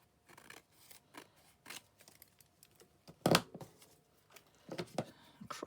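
Scissors snip through recycled book pages in a few separate crisp cuts, close and fairly quiet, with short gaps between them and one louder snip near the middle.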